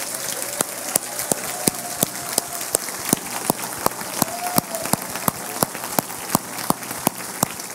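A church congregation gives a round of applause, a steady patter of many hands clapping throughout, with sharp individual claps standing out and faint voices beneath.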